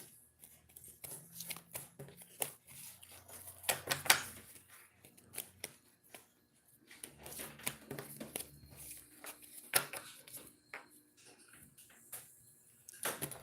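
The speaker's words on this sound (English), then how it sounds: "I'm going to shuffle again." Quiet, close bursts of tarot cards being shuffled, crisp riffling and flicking in repeated rounds with short pauses between them.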